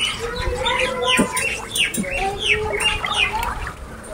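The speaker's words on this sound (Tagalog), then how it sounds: "Naririnig niyo ba yung mga ibon?" Several birds chirp and tweet in quick repeated calls against a steady outdoor background, fairly close, with no one speaking.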